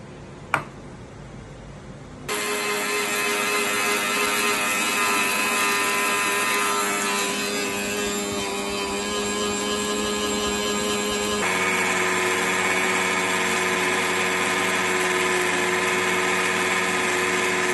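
A grinder whirs loudly and steadily as it grinds whole spices into garam masala powder, starting after a short quiet moment and running on without a break, its pitch shifting slightly partway through.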